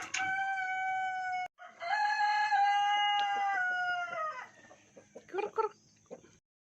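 Poultry farm rooster crowing loudly and close in two long crows, followed by a scatter of chicken clucks toward the end.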